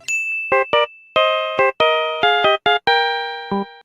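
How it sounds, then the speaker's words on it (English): The cell phone ringtone from Phoenix Wright: Ace Attorney – Justice for All plays as a loud, bright electronic chime melody of about eight clipped, bell-like notes in a quick rhythmic pattern, alone and clear. "This has to have been the sound that Wellington heard many times when Maya tried to call his cell phone"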